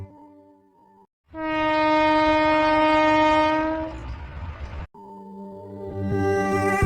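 A train approaching, with a loud sustained horn blast over heavy rumbling and rolling wheels, then a lower steady horn tone continuing as the train runs close by.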